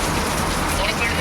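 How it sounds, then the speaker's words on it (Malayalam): Rain falls steadily and heavily, a dense, continuous hiss of drops striking surfaces that stays even and close throughout. "മഴ ഇപ്പം കുറയും നോക്കി എന്നിട്ട് കുറയുന്നേ ഇല്ല"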